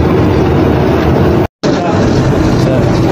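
An exhaust fan motor running without its capacitor, giving a loud, steady whirring drone close by, briefly cut off to silence partway through before resuming.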